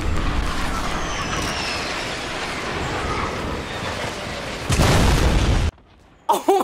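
A guided missile blast in the Fortnite video game: a steady rumbling whoosh builds, then a loud, close burst of explosion lasting about a second before cutting to near silence and a short final noise.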